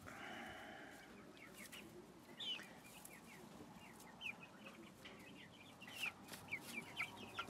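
A young Lavender split rooster in a grow-out pen clucks in short, quick bursts over a faint, steady background, after an early stretch of low rustling. The clucks grow denser toward the end.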